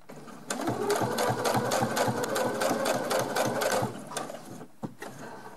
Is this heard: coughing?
no